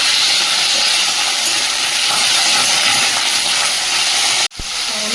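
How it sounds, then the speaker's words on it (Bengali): Bitter gourd and potatoes frying in oil, a loud, dense, continuous hiss that breaks off sharply near the end, then resumes. "এবার উচ্ছেগুলো দিয়ে দেবো, সঙ্গে আলুটাও ভেজে নেব।"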